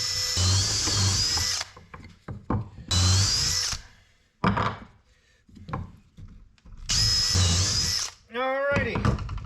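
A power drill bores pilot holes into splitting-prone wood aboard a wooden boat, in three loud whining bursts separated by clattering handling noises, with a short squeaky sliding sound at the end.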